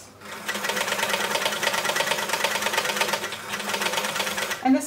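An Elna L4 overlocker serger stitches fabric edges, its needles and loopers whirring in a steady, fast mechanical rattle that runs close and loud almost without pause.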